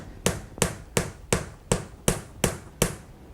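Eight sharp, evenly spaced taps of a tool knocking a large wooden dowel down into a buttercream cake, each crisp hit close and clear with a short decay, and no talking.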